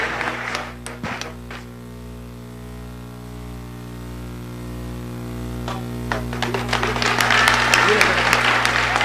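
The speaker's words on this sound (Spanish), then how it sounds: "Un fuerte aplauso para el Padre." An audience claps for a Catholic priest after a debate with a Bible student in San José, Jalisco, Mexico. Scattered claps swell into dense, loud applause at the end, over a steady electrical hum, with voices audible in the room.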